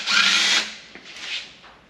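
A power tool briefly whirs while removing 10mm bolts from a K11 Micra engine during a teardown for a turbo time attack build. The loud, steady burst lasts about half a second, then fades to near quiet.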